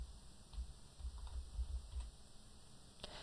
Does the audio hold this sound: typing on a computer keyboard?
yes